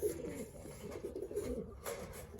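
Nomination pigeons coo low and steadily in a top aviary settling cage with the landing board open, several soft overlapping calls close by, nothing else heard.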